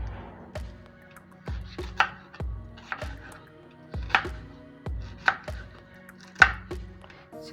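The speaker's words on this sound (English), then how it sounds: "So you cut them into small pieces." A kitchen knife chops vegetables into small pieces on a cutting board, with a dozen or so crisp, separate thuds in an uneven rhythm, close and clear with no talking.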